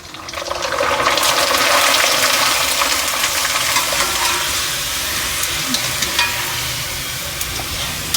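Small rice chips frying in hot oil, a steady loud crackling sizzle with dense bubbling that holds throughout, close up and alone with no voices.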